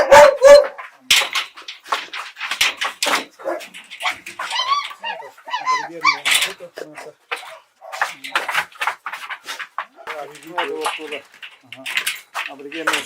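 Hunting laika dogs bark and whimper from kennel enclosures, several short sharp barks and whines scattered throughout at close range, with someone talking over them.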